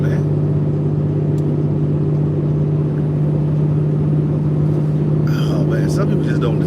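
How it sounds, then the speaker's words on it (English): A diesel hot shot pickup towing a trailer races with a loud, steady engine drone that holds unbroken from start to finish, with faint higher noise near the end. "Is this dude racing in a hot shot with a trailer?"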